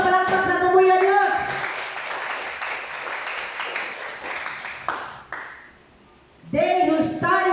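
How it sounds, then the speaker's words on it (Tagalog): A church congregation applauds during a sermon, with diffuse clapping running under ongoing voices and a sustained musical tone, dropping briefly to near quiet before the voices resume. "Makusog ka palakpak sa tubuyan Dios."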